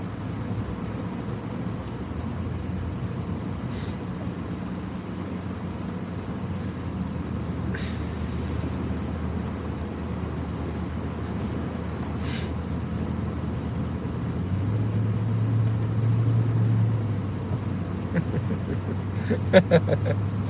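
A car drifts through snow with four-wheel drive engaged. A steady low engine drone runs throughout, swells as the revs climb near the end, and has a few faint clicks and knocks over it.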